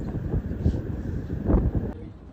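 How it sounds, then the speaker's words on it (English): Evening wind outdoors in Colombo, Sri Lanka, gusting and buffeting the microphone in low, uneven rumbles for a couple of seconds. "it's so beautifully windy right now"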